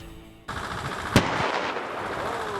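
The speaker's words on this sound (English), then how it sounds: "A series of explosions are being set off in an effort to break up the ice" A single sharp explosive blast set off to break up river ice cracks out, followed by a sustained rumbling roar with a faint whistling tone trailing off.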